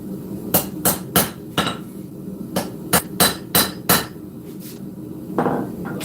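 Steel hammer blows ring out while forging a full integral knife, a dozen sharp metallic strikes in uneven bursts of two to four, loud and close with short pauses between groups.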